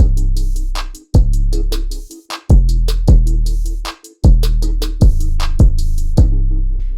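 An electronic beat with deep kick-like thumps and sharp, crisp hi-hat ticks repeating in a steady loop, loud and upfront with no voices.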